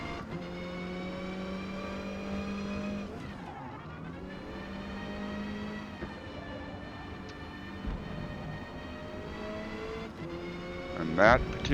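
A Lancia Delta race car in the video game Forza Motorsport drones steadily at high revs around the Catalunya circuit, with pitch dips at gear changes, while someone talks over it throughout.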